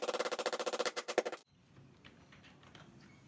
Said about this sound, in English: To get the base plate off the router, I had to knock out these two spring pins, which I did with a hammer and a small piece of steel rod.